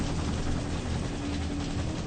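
A military helicopter landing a team of Navy SEALs on a mountain summit, heard as a steady, muffled rotor and engine drone, continuous and even in level, with no talk.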